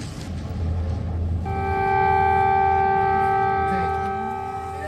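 An air raid siren wails steadily in Kyiv, a sustained distant tone rising and falling slightly over a low background rumble.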